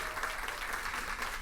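An audience applauds for a trophy at a school competition match between Lycée National de Carrefour Feuilles and another lycée, a steady dense clapping throughout, fairly distant and uniform.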